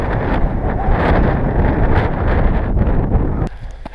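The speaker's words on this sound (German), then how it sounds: "Der Wind ist nicht unser Freund, wenn er genau von vorn kommt." Strong headwind on a high mountain ascent near the 3472 m Seelenkogel summit blows steadily against the microphone, a loud continuous rumbling roar that drops off sharply near the end.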